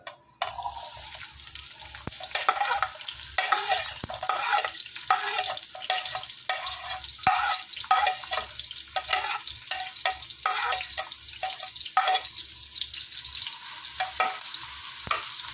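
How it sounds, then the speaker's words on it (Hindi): About a cup of oil sizzles steadily as onions fry toward brown for haleem, with repeated scraping and stirring strokes from a utensil in a pan, no voices. "उसमें ऑयल डाल दिया हमने 1 कप तकरीबन। तो इसमें हम प्याज करेंगे"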